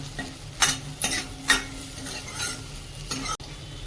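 Onion, garlic and green chili sauté in a pan with a constant, soft sizzle under several distinct scraping strokes of a spatula, close by and with no voices.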